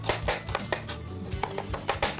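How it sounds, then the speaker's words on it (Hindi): Medium onions being sliced finely with a knife on a board, a quick run of crisp, close chopping strokes in an uneven rhythm, with no one talking. "2 अदद दरमियानी प्याज है, इसको बारीक हमें स्लाइस करना है"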